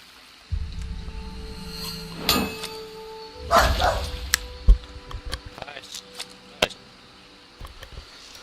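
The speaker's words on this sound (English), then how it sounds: "Sorry about my dog." A dog barks several times in short bursts, sharp and fairly close, spaced irregularly over a quiet background while a person speaks.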